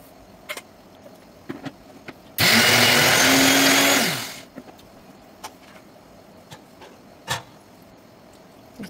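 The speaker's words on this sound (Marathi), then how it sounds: "सांबार मी काढून घेते मिक्सरमध्ये।" A kitchen mixer grinder whirs loudly for about two seconds, grinding garlic, ginger and coriander for mutton pulao, its pitch rising then dropping as it winds down, with quiet kitchen clatter before and after.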